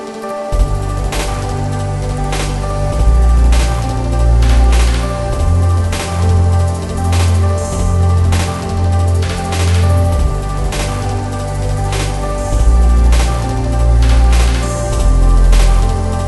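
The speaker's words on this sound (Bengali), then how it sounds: "মাংসটা ভালোভাবে কষানোর পর আগে থেকে ভেজে রাখা আলুগুলো ওর মধ্যে দিয়ে আবারও কিছুক্ষণ" Pieces of mutton and pre-fried potatoes sizzle and crackle in a hot pan while being sautéed for a Bengali-style curry, a continuous spitting fizz with sharp pops throughout and a low rumbling undertone of the stove.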